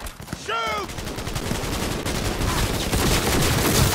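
Dense gunfire in the game Cyberpunk 2077, a loud near-continuous volley of rapid automatic shots with a short rising electronic chirp early on and a muffled voice beneath the shooting.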